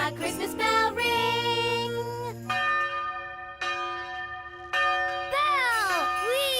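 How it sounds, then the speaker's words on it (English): Cartoon Christmas bells ring out loud and clear, a series of bright sustained chimes struck one after another with long ringing overtones, ending in a sliding jingly flourish, with no talking over them. "when you hear the Christmas bell ring"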